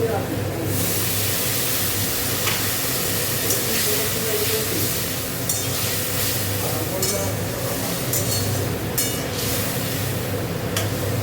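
Fish sautéing with a splash of water in a pan, a steady loud sizzle and hiss of steam continuing without a break, close up, with occasional stirring scrapes and a voice speaking now and then over it.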